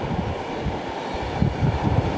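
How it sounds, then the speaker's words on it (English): A Green Line extension test train runs along the track, a steady low rumble and rolling rail noise with a slight rise in intensity toward the end. "Test trains are running on the Green Line extension."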